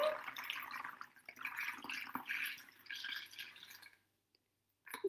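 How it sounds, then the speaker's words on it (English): Water poured through a funnel into a water bottle splashes and gurgles in uneven bursts for about four seconds, stops briefly, then resumes, close and moderately loud. "put it through my water bottle again and again. Just fill my water up to the top of my water bottle."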